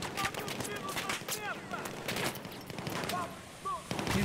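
Gunfire in a Battlefield 4 team deathmatch on Operation Locker, rapid bursts and single shots crackling in quick succession at mid distance, with voices talking over the shooting.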